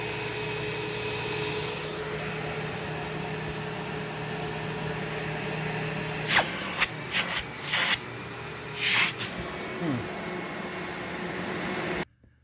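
Windsor Versamatic upright vacuum cleaner running with its brush roll on, a steady loud airy roar and hiss throughout, with a few brief bumps and rattles near the end before the motor cuts off abruptly.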